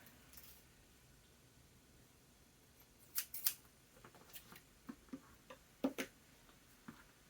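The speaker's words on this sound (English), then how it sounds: "take your scissors and just trim it up" Quiet, scattered snips of scissors trimming an acrylic pour piece for a magnet, a series of soft sharp clicks spaced irregularly over several seconds in a calm room.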